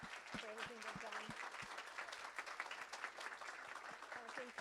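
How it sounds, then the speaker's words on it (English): Applause from a seated audience for a panel discussion, a steady wash of clapping lasting throughout, with a few voices and brief tones mixed in near the start and end. "I'd like to give the panelists a big round of applause and thank them for everything they've done"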